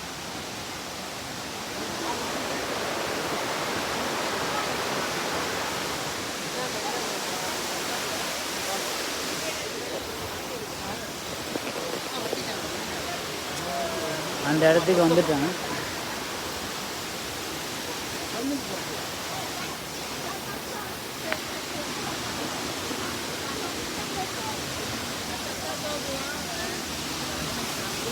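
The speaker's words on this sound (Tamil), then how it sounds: "இதான் அருவி தெரியுதுங்களா, சூப்பராக." Forest waterfall pouring as a steady broadband rush that fills the whole stretch, with someone talking briefly over it partway through.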